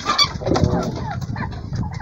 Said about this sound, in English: The chickens trapped in the cage are also for slaughter.